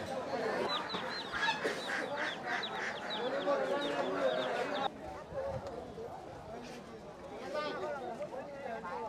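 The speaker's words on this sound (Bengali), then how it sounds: "এই মোরগ ছুটে যাবে।" Roosters and hens clucking and crowing at Nandina Haat, a traditional village market in Jamalpur, including red and white Brahma roosters; repeated clucks and calls ring out over steady crowd chatter and talk.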